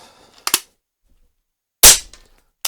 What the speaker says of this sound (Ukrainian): Ще 4 постріли.